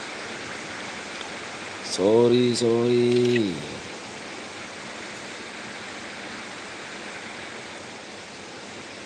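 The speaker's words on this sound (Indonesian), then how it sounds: "Sorry banget nih di sini hujan" Steady rain falls throughout, a broad even hiss that stays constant, with a brief spoken word rising over it near the start.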